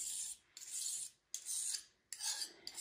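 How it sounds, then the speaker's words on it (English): Oil paint being scraped off a surface with a tool in an artist's studio: four rasping strokes in a steady rhythm, close and clear, with short pauses between them and no talk. "And you scrape this off."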